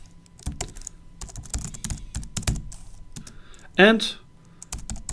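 Keys clatter on a computer keyboard in quick bursts as an email is typed, close and crisp, with a voice speaking briefly over the typing.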